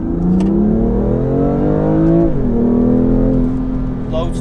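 A BMW M2 Competition accelerates from inside the cabin, its engine tone climbing steadily, dipping at a gear change, then rising again; loud and continuous, with a voice speaking over it.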